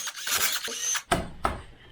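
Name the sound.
removing the vacuum pump from a Land Rover TDV6 diesel engine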